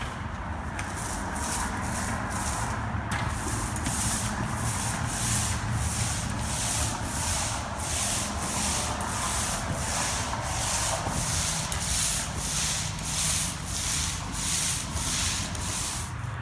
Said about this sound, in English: Now I'm gonna back roll the sand all the way across,